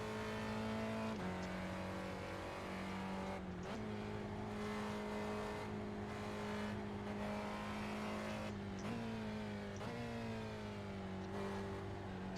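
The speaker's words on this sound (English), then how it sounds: "This car does sound really good now in downshifts with this new update that got fairly recently." Spec Racer Ford race car engine in the iRacing simulator at Oulton Park, a sustained close engine note with repeated sharp pitch drops and blips as it downshifts and revs back up through corners.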